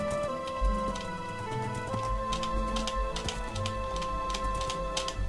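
Horse hooves clatter in a rapid, steady gallop during a horse race in the video game Minecraft, set over a constant tonal background of game music.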